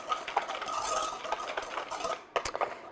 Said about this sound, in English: I'm just going to whisk this together